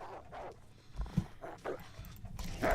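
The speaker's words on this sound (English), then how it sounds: "Where are you coming from, dog?" A dog barks in the survival video game The Long Dark, a few short yelps and barks at middle distance over a low ambient background.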